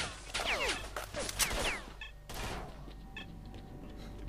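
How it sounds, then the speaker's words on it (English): Gunfire in the video game STALKER: Shadow of Chernobyl, with an enemy shooting through the side of a cargo container: a quick cluster of sharp shots and impacts early on, then a single later crack over quieter game ambience. "a cheap guy shooting me through the side of a cargo container"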